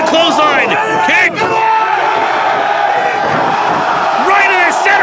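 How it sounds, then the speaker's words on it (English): A crowd at a wrestling show at St. Mike's College cheering and yelling loudly and without a break, close and full, with a commentator talking over the noise. "The crowd's loving it."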